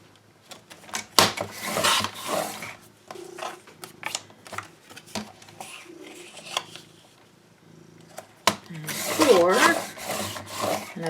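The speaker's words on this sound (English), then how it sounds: "You might hear some purring happening." A cat purrs close by on a craft desk while paper is cut for a flipbook, its soft steady rumble running beneath bursts of cutting and rubbing noise, with no talk.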